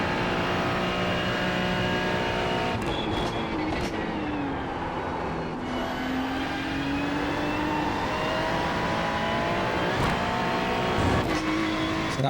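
A car driving a lap at the Monza circuit, its engine droning steadily and loudly throughout, with the pitch rising and falling through gear changes and a few sharp shifts, no talking.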